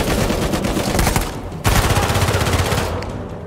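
A heavy armored enemy's machine gun in Uncharted 4, firing loud rapid continuous bursts with one brief break before the rattle resumes and fades slightly.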